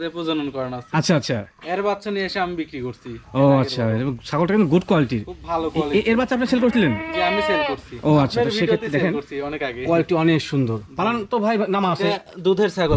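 Dairy goats, Totapuri, Haryana, Beetal and Sirohi crosses, bleat at a goat market amid close, continuous conversation, their cries mixing in and out of the voices.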